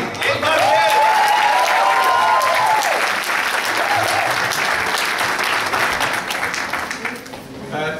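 An audience at a talk on the poet Sahir gives a full round of applause, loud and dense at first, then thinning toward the end, with some voices and a sung or hummed phrase briefly heard early on.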